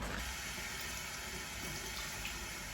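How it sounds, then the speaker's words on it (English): Steady running water flows from a tap as grape vine leaves are washed, a constant splashing rush with faint movement beneath it and no voices. "Give it a good wash."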